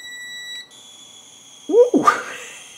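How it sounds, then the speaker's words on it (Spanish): A homemade mini fan heater's power supply gives off a steady high-pitched electronic whine that drops partly away midway, then a few short clattering thumps close by near the end. "No, lo que hace ruido es la fuente."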